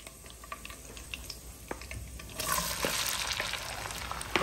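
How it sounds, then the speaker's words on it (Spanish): Chopped tomato and white onion fry on high heat in a pan, a soft steady sizzle with scattered clicks of stirring that swells louder halfway through, heard close with no voices. "La vamos a sofreír por aproximadamente 5 a 7 minutos a fuego alto"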